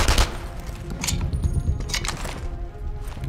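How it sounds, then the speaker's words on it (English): Rapid gunfire rattles through a firefight in the World War II shooter Enemy Front, with sharp repeated cracks and metallic clinks that ease slightly toward the end. "I can shoot you through the holes in the thing."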